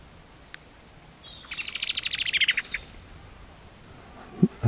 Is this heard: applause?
no